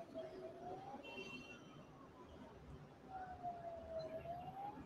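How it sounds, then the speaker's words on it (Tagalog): Ambulance siren wailing at a distance during a building fire, its rising and falling tone faint under background street noise and nearby voices. "Ay, na ambulance oh."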